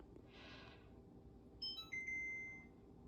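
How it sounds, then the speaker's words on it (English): A faint hiss fades, then a kitchen timer gives a few quick electronic chirps followed by a sustained high beep in a quiet kitchen. "That was my 7-minute timer."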